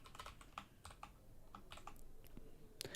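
Dart code is typed on a computer keyboard in quiet, close clusters of light key clicks with brief pauses between bursts, and nobody speaks.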